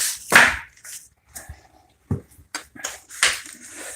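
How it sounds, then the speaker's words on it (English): A chisel pries up bathroom floor tile during a remodel, giving a sharp crack and scrape followed by several shorter knocks and snaps, close and fairly loud with quiet gaps between. "It's coming up with the chisel. The chisel's working really well."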